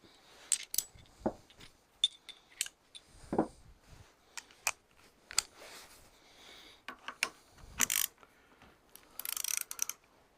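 Screwing the contact onto the starter motor of a Fiat Ducato 2.3 that has been jamming: scattered close metallic clicks, taps and ratchet-like tool sounds with short rustles, heard without talk.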